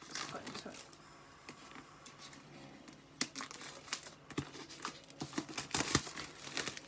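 Packaging for Apple MacBook Air accessories is pried and cut open with a cuticle cutting tool, giving crinkling plastic and irregular sharp snips and tears that grow busier and louder toward the end.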